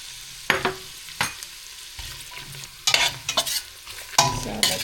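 Garlic and onions frying in a pan for garlic buttered tiger prawns, stirred with sharp scraping strokes in irregular bursts over a faint, steady sizzle, close up and without talk.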